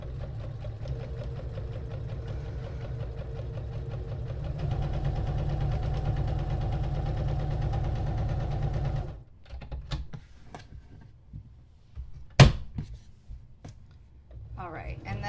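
A sewing machine runs in a steady whirring stitch, sewing around the edge of a fabric dog toy, close by, then stops, followed by handling clicks and rustling.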